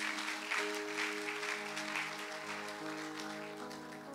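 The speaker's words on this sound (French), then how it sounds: "Acclame pour le Seigneur bien-aimé." A church congregation applauding for the Lord, sustained clapping from a crowd mixed with organ-like held music tones, steady and fairly full throughout.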